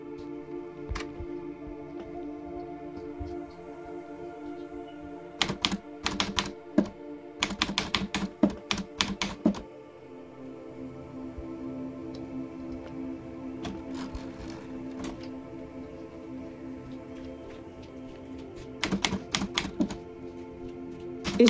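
Clattering keystrokes from a vintage 1970 SCM Smith Corona Super G full-keyboard upstrike typewriter, close and steady, with dense bursts of rapid typing and brief pauses over a low background hum.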